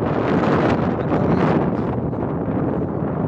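Strong wind rushes steadily past the microphone beside an artificial lake, a loud breathy roar that eases slightly toward the end, with no one speaking.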